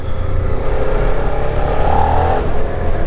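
A Suzuki SV650 motorcycle on its stock exhaust revving inside a tunnel, a loud, steady engine drone with a brief rise in pitch partway through, echoing from the walls.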